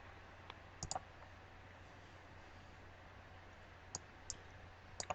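Computer mouse clicks at a Windows 7 desk while the registry is being backed up: a quick double click near the start, then single and paired sharp clicks a few seconds later over a steady low hum, close and fairly quiet.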